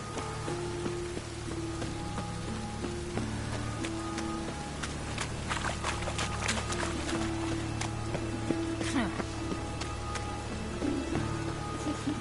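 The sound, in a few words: rain in the video game Witcher 3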